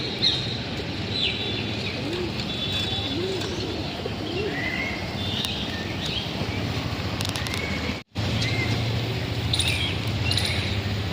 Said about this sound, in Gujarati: અને આ જોઈ લઈએ કબૂતર કેવા ચણે